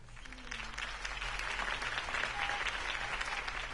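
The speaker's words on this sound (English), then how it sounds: "could have heard that applause" A steady wash of crowd applause in a Batman video game, many hands clapping at once, sustained throughout at moderate volume.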